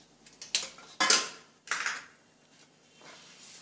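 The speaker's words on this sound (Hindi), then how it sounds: "तो ये थाली हम लेते हैं।" A metal thali plate is picked up and handled, producing a few sharp clanks and rattles with short ringing decays, spaced irregularly and fairly close.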